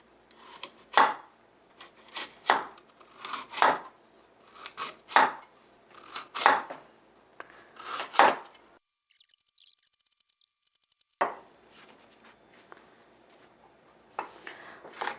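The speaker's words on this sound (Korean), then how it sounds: "연근은 한 2mm에서 한 3mm 정도 되게 연근을 썰어, 썰어 보도록 하겠습니다." A knife slices lotus root into thin 2-3 mm rounds on a cutting board, a regular series of crisp cuts at about one per second. A brief quiet gap comes before the cutting starts again.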